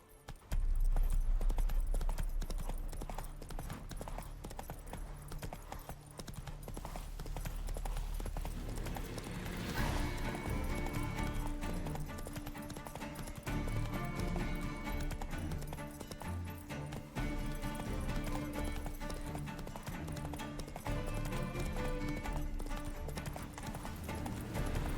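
Horse galloping in the video game The Witcher 3: Wild Hunt, rapid rhythmic hoof clip-clops over game music and ambience, with a brief whinny, steady and moderately loud throughout.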